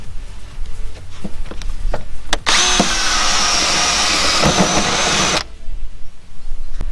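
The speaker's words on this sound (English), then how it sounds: "you will need to drill an access hole for the jack bar" A 40–45 mm drill bores an access hole in the front air dam of an MX5 for a jack bar, a loud steady whine lasting about three seconds, framed by clicks and handling knocks before and after.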